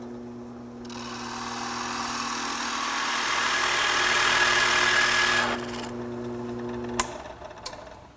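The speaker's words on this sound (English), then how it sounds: "Simply turn on the drill press and you're ready to go." A drill press motor hums steadily with a broad whirring noise that swells and cuts off, followed by a couple of sharp clicks.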